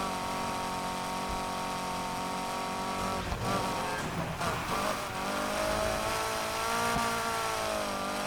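Racing car engines roar continuously in a Figure 8 race in Need for Speed Heat, with sustained revving and shifting engine tones, loud and close, with no talk.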